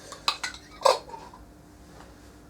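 Metal forks clink and scrape against a glass jar of pickled onions in a few sharp, quick taps close by, then quieter faint rattles trail off.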